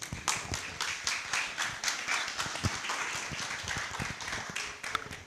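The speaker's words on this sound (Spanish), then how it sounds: "Los aplausos para él, por favor." An audience at a press conference for journalists on the 2026 general elections in Lambayeque applauds a guest speaker, steady dense clapping from many hands filling the room for several seconds without a break.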